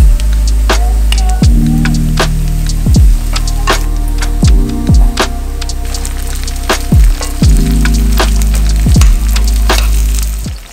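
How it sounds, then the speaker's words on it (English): Salmon sears in a hot pan with a loud, constant sizzle and crackle, punctuated by repeated sharp knocks and scrapes of a utensil against the pan. "we're just gonna pan sear it now"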